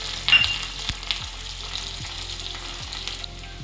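Mustard seeds, sesame seeds, green chillies and curry leaves sizzle steadily in hot oil as a tempering for rava dhokla, a soft continuous crackle with faint stirring taps.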